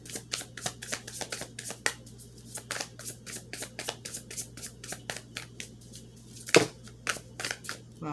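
Tarot cards being shuffled by hand, a long run of crisp, rhythmic riffling flicks at close range, fairly even in pace with one sharper snap near the end.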